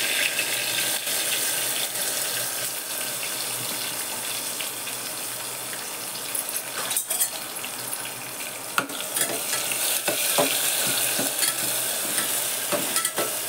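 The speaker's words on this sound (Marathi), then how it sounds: "कांदा हा जरा परतू देते" Sliced onion and bay leaf sautéing in a pan with crushed ginger, garlic and chilli, a steady broadband sizzle with occasional scrapes of stirring throughout, close and moderately loud with no talk.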